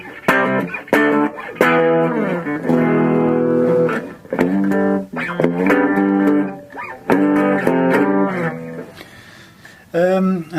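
A Les Paul electric guitar played through a Brit combo amp rings out in distorted chords and phrases with short pauses between them.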